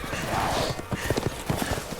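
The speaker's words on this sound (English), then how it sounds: "Why do they have horses?" Horses clip-clop in the video game Resident Evil Village, a steady run of close hoof strikes over a busy game backdrop, with a faint whinny and some voice mixed in.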